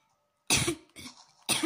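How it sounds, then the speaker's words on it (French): Two sharp coughs in quick succession after a moment of silence, the second following a brief pause, close and fairly loud. "je tousse un peu"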